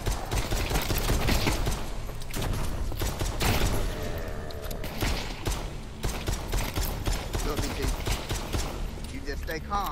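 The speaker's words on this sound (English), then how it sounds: "I'm trying to kill this joker with the gun." Rapid gunfire and bursts from a military shooter video game, with sharp repeated reports spread across the stretch, mixed with game sounds and dense activity throughout and no clear gaps.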